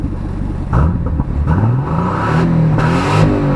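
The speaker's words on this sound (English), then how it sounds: "that inline six, man, what a symphony that is" A Nissan Fairlady Z's turbocharged inline six revs up close and loud in several rising pulls, each climbing in pitch before easing off, with no voices over it.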